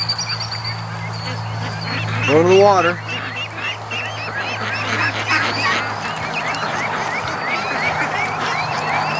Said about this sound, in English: We got a little bit of a duck train coming down.